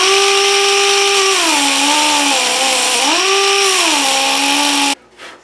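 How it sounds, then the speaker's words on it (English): A die grinder shaping the wooden neck of a Martin D-16 guitar whines loudly up close, its pitch dipping and recovering in waves as it bites into the wood, then cutting off abruptly near the end. "So we're going to start with the die grinder."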